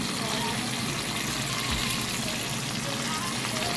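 Catfish fries in hot oil while being turned, a steady close sizzle and bubbling that runs without a break under a speaking voice.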